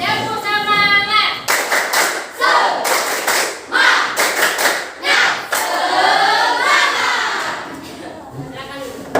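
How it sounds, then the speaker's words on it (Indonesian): Classroom of students doing rhythmic spirit clapping, bursts of sharp synchronized claps in a patterned beat alternating with chanted voices, loud and close, ending with group chanting. "Tepuk semangat."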